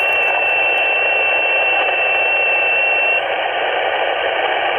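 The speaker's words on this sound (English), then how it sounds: "Well, I can hear plenty of people tuning up, Pat." Amateur radio operators tuning up on a net frequency, a steady loud band of radio hiss and noise with a faint whistle-like tone running through it, alone with no talk.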